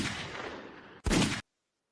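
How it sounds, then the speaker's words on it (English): A sudden, sharp gunshot sound effect hits after a steady wash of noise, one brief loud blast that cuts off abruptly into silence. "I let out like a gunshot or two."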